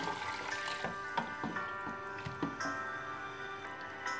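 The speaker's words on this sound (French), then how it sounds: "Maintenant, je mets l'eau bouillante." Boiling water is poured into a pressure cooker holding bulgur and olive oil, a soft wet trickle with splashy drips and gurgles up close.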